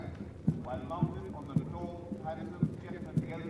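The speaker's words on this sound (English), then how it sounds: "So we see 5 horsemen marching in front of the dais." Hooves of a small mounted contingent of five horsemen clop in a steady, even rhythm during a ceremonial parade before a dais, under a commentator's voice describing the scene.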